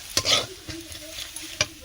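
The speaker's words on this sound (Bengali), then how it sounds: "ভালো করে এর সঙ্গে ভেজে নেব।" Ginger and green chili paste with red chili and turmeric powder is stir-fried in a pan for vegetable chop filling, with a soft steady sizzle under several sharp scrapes of a spatula, close up and without voices.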